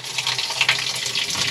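Water pours from a canister into a caravan washing machine while free camping. It makes a steady, splashy trickling stream, close and moderately loud, with no talk over it.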